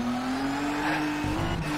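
A car engine hums at a steady, slightly rising pitch in the Shift 2 Unleashed racing game, with faint tire noise underneath, close and continuous for under two seconds.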